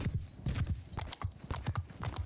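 Horse hooves gallop in a fast, uneven clip-clop rhythm across a battlefield in the video game Mount & Blade II: Bannerlord, several riders thudding close and fairly quiet with no talk over them.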